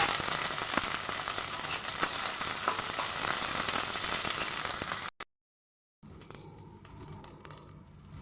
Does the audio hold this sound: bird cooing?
no